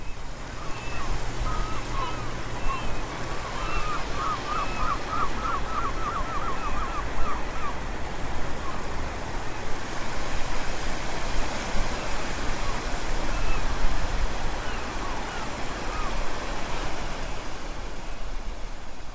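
Steady, broad wash of sea waves breaking along the Tel Aviv shoreline, a continuous surf roar that swells slightly mid-way, with faint chirps over it early on and no talking.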